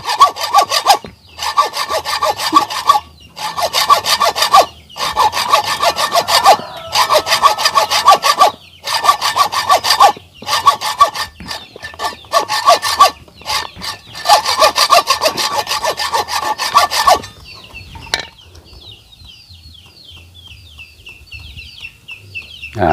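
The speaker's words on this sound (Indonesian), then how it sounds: "Tinggal kita lanjutkan untuk kedalamannya ya. Digergaji lagi." A hand saw cuts a deeper wooden slot for a rice mill, with rhythmic rasping strokes in bursts and short pauses, then a quieter stretch where chickens cluck in the background.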